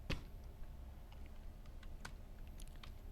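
Numbers are typed on a computer keyboard while entering budget figures in Tally Prime accounting software: a few quiet, sharp key clicks spread over a few seconds, close by, with no voices.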